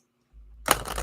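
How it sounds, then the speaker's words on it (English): A small deck of 36 thin cardstock reading cards is shuffled close by, starting after a brief quiet moment as a quick burst of riffling, flapping card noise with no talking. "Let's give it a shuffle."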